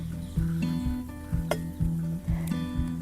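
Aagri masala with garam masala cooks in a pan for bheja fry, a soft sizzle under repeated scraping and stirring strokes with a few light metallic clinks, close and fairly quiet.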